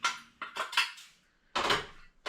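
Several short metallic clanks and scrapes, close by, as an old, dirty metal drip pan is handled and pulled loose from a GE electric range, with brief pauses between.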